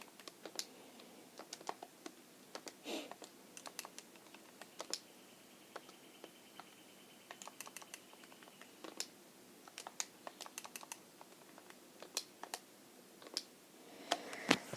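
Calculator keys pressed to enter a 15 factorial division problem, a quiet, sparse series of light plastic clicks in irregular bursts with no talking.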